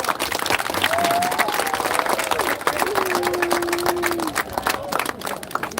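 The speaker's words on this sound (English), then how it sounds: "So give yourselves a round of applause" A crowd claps and applauds steadily for several seconds, dense and close, with a voice calling out briefly over the clapping.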